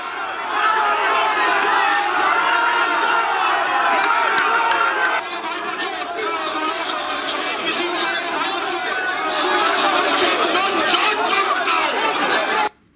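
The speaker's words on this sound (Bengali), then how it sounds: "তৃণমূল বিজেপির মধ্যে তুমুল স্লোগান।" Dense crowd of Trinamool and BJP supporters raising loud slogans at a rally in West Bengal, a steady roar of shouting voices for about twelve seconds before cutting off abruptly.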